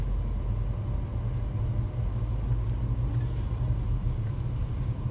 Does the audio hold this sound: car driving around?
yes